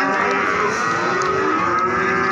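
Cattle at a livestock market during heavy rain give a long, loud, close moo that holds for a couple of seconds over a background hiss of rain.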